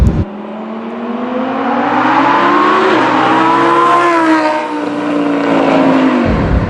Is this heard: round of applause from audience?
no